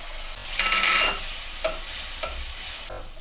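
Ground spice masala with a splash of water sizzles in a pan, a burst of frying hiss swelling for about half a second then settling, with a few scraping stirs as the spoon moves through; close and fairly loud, no talking.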